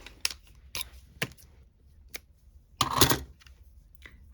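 Scissors snip through hemp cord in a few sharp, separate clicks spread over a few seconds, with one louder, longer cut near the end and no talking.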